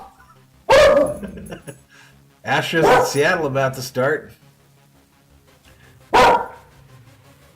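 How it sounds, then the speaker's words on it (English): A dog barks in a few loud, separate bursts near the microphone, with someone talking between and over the barks. "I don't know what he's barking at."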